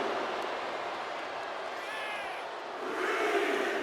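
Crowd cheering in a WWE 2K24 wrestling arena, a continuous roar of fans that swells louder near the end, heard alone without talk.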